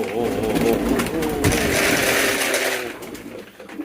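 Pigeons coo close by on a pigeon farm in a steady run of low, throaty, rolling calls, with some faint rustling underneath as they are fed.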